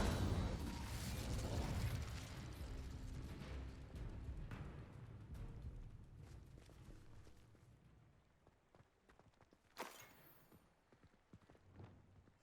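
Incendio fire spell cast in Hogwarts Legacy, a low rumbling burst of flame that swells loudly at first and then slowly fades, with a sharp crack near the end and scattered clatter behind it.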